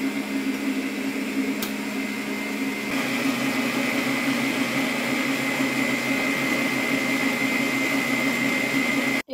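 An electric mixer beats refined sugar and vanilla into cake cream, a steady close whirring drone running unbroken throughout with no talk.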